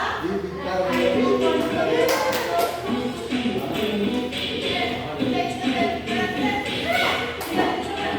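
Children clap hands in a Qur'an lesson classroom, rhythmic patterned claps from a small group mixed with shuffling and talk nearby.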